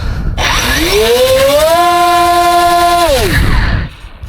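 A small model airplane engine, on a Q400 airliner model, revs up into a loud, steady high-pitched whine, holds for a couple of seconds, then winds down and cuts off.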